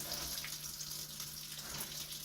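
Cold water runs steadily from a kitchen tap into the sink, a continuous hiss of moderate loudness with no voices.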